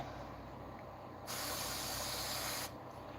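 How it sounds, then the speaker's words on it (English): A spray bottle misting an isopod enclosure: a steady, loud hissing spray bursts on for about a second and a half, then cuts off, over a low background hum. "I'm gonna spray a little bit of this"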